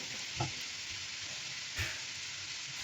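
Pork belly frying in a wok over a slow fire, with a constant close sizzle and two brief scraping stirs of the spatula against the pan.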